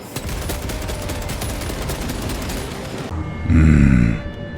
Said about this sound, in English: Much like I am nailing these bugs with heavy bolter rounds.